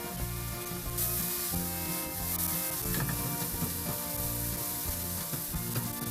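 Onions and carrots stir-fry in a pan, a steady loud sizzle layered with rhythmic scraping and clattering from a utensil.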